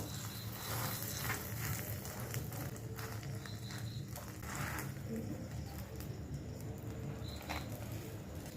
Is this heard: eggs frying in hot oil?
yes